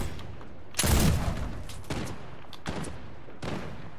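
Hunting rifle shots fired without scoping in a shooter video game, four separate sharp cracks with ringing tails, the first loudest, spaced roughly a second apart and heard alone.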